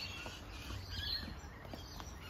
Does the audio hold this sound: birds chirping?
yes